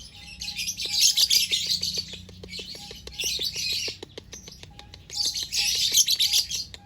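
Lovebirds chirping in a cage, with bright, rapid tweeting bursts repeated in several clusters alongside steady short calls, close and fairly loud with no voices.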